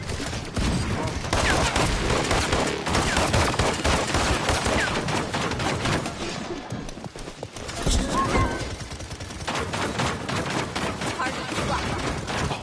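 Chaotic gunfire and a flashbang in the Paladins video game, dense continuous bursts of shots and effects under excited talk throughout.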